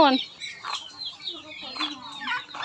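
Chickens clucking nearby in short, repeated bursts, with a few higher calls mixed in.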